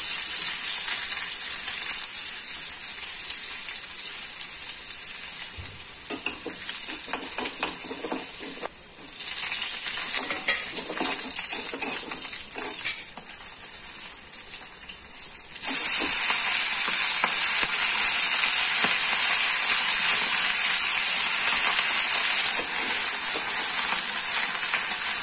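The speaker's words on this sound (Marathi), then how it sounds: "आता त्याच कढईत मेथी करून घेते." Fenugreek leaves fry in a kadhai with a steady, loud sizzle and soft stirring scrapes throughout. The hiss swells sharply louder partway through and stays intense to the end, with no talking.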